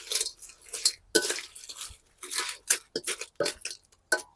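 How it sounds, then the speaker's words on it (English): Field crab being stir-fried with curry powder in a wok in a countryside kitchen, irregular close crunching scrapes and clattering stirs in short uneven bursts separated by quiet gaps. "we're gonna mix, stir fry a little bit"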